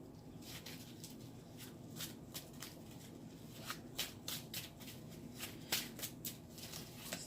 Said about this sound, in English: These are hard to shuffle. But I'm going to shuffle them.